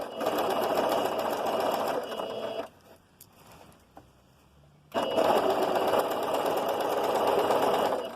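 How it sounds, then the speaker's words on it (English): A sewing machine runs steadily at close range as it stitches dress seams during an alteration, a dense whirring buzz that stops briefly for about two seconds, then resumes just as loud. "Now you're just sewing down the line, taking out the pins"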